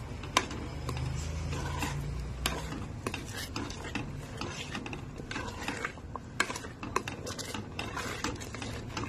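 Mung beans are stirred in a cooking pot of boiling water with scraping, clattering strokes at an uneven pace, close by and moderately loud, with no talk.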